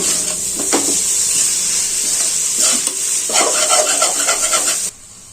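Egg noodles are stir-fried on high heat, tossed and scraped in the pan over a loud, constant sizzle, with bursts of clattering stirring before the sound cuts off abruptly.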